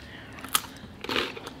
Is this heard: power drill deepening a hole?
no